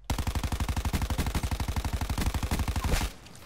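Rapid automatic gunfire from a weapon in the video game Predator, a fast, even burst of shots lasting about three seconds that cuts off abruptly, loud and close with no talking over it.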